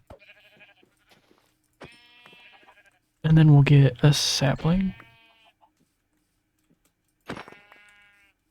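Sheep in Minecraft let out several short bleats: a few faint ones early, then a loud, close burst in the middle and another near the end, with someone talking quietly between them.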